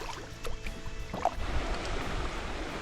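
A kayak pushes through river rapids on Rocky Fork Creek, with faint, low rushing water and scattered splashes and knocks close by.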